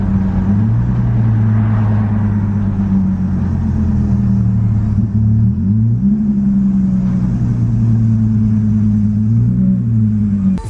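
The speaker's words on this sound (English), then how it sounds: "when the car goes to downshift from, I don't know, from like third to second or from like second to first, that's when there's like a weird hesitation" Lexus IS250 with a transmission fault driving along, its engine a steady loud drone whose pitch dips and shifts as it downshifts with a noticeable hesitation, alone with no talk.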